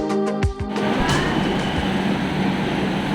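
Kolkata Agra Weekly Express pulling out of Kolkata station behind an electric locomotive, with a few sharp clanks at the start followed by a steady, loud rolling rumble of wheels on the rails.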